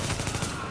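Rapid gunfire from Tom Clancy's The Division, a dense continuous volley of shots, loud and close through the whole short stretch.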